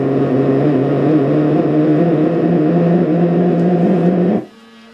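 A Sony Walkman WM-F69 cassette player running on play gives a steady close motor and tape-drive hum with mechanical whir, which cuts off abruptly near the end, leaving a quieter low hum.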